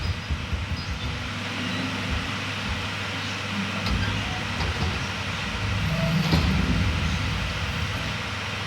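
A train rolls along in the Reanimal video game, a steady low rumble and rattle of rail cars under a hum of wind and machinery, continuous and fairly close with no talk.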